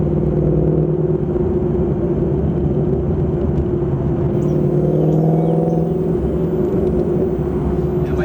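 A supercharged 2018 Ford Mustang engine rumbles deep and steady up close, its exhaust note swelling slightly midway as the revs climb above 2,000.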